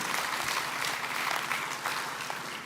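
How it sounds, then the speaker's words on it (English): Audience applause at a groundbreaking ceremony for Davie Defense and Gulf Copper on the Gulf Coast, a steady dense wash of many hands clapping held throughout the short stretch. "You can clap for that."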